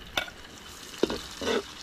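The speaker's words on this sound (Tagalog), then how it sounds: "Gundahan mo ng bawang, sibuyas." Garlic and onion being sautéed in a pan for chicken tinola, giving a few soft sizzles and stirring scrapes close by, brief and fairly quiet.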